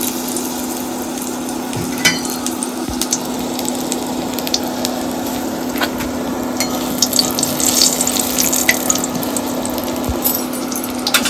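Whole garlic cloves fry in hot mustard oil in a village kitchen, giving a steady, fairly loud sizzle and crackle with scattered pops, and no voices over it.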